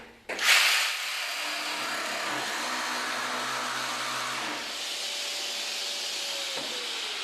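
A Festool PSB 420 jigsaw cuts from underneath the workpiece: a sudden start, then a steady, close, high-speed motor whine with a hissing cut that holds for several seconds before easing at the end.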